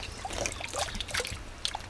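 Water trickles and splashes steadily from spring pipework in Costa Rica that diverts the natural flow, a close, continuous watery babble with no voices.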